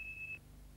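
A single high electronic smoke alarm beep sounds for about a third of a second, clean and fairly faint over a low steady background hum.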